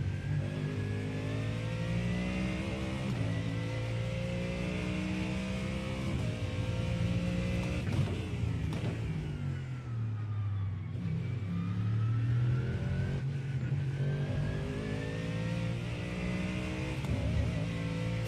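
A GT3 race car in the iRacing sim at Misano howls through rising engine notes with quick dips at each upshift, loud and continuous for about eighteen seconds.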